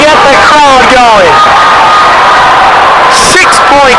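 Loud basketball crowd at a high school sectional title game, Roselle Catholic versus Gill St. Bernard's, erupting in cheers, whoops and shouts; sustained roar with bursts of yelling, close and dense.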